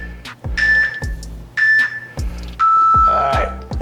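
Repeated electronic workout-timer beeps sound in a gym during a flat bench press or fly set, each a short bright tone recurring about once per second, with gym noise and a voice speaking between them.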